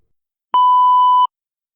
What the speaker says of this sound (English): Audio will play after the beep sound.